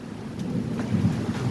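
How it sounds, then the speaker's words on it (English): Rain falls during a thunderstorm, with a faint, low rumble of thunder underneath. The sound is quiet, brief and heard alone. "Holy crap, it's raining."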